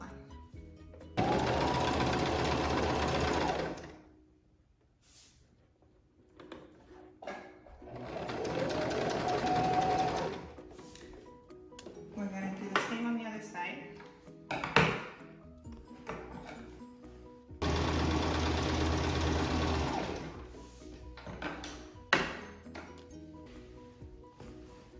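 A sewing machine stitches the seam of a youth fabric superhero mask in three sustained bursts of rapid whirring, separated by quieter pauses of fabric handling and small clicks.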